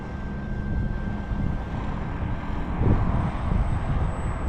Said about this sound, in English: Just having a little bit of motor there to keep it in the air